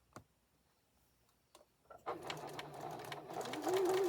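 Sewing machine back stitching the opening on a handmade memory bear, a few soft clicks and taps before the motor starts and runs in a continuous rapid whirring stitch that grows louder.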